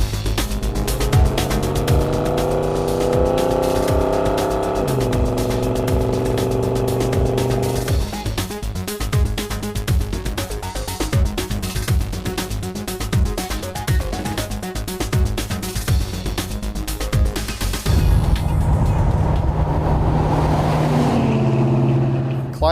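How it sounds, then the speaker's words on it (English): A Ford Ranchero's engine labours under heavy throttle while climbing hills, droning loudly with shifting pitch and a dense rattling, pinging edge, steady throughout with brief drops as the load changes. "Climbing the hills back here, it needs enough throttle that it's actually pinging a little"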